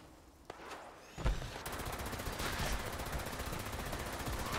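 Gunfire in the video game Fallout 76 starts with a couple of isolated shots, then turns into sustained rapid automatic fire that rattles on steadily at moderate distance, with no talking.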